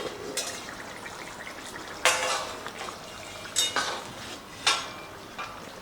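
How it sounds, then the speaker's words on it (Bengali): Metal pot lid lifted off a pot of jackfruit curry with potatoes after about ten minutes of cooking, giving several sharp clanks and scrapes spaced across a few seconds, close and fairly loud, with no talking. "এবারে ঢাকনাটা খুলে দেখি।"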